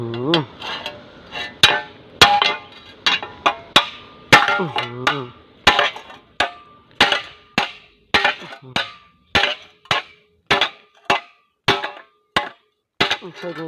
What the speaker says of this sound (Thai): แล้วก็ใช้ค้อนทุบนะครับ